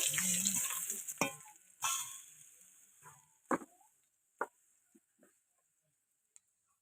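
Garlic crushed with a grinding stone is stirred into hot oil in a pan, sizzling briefly and loudly at first, then dying down to a few scattered scrapes and taps that fade to near silence.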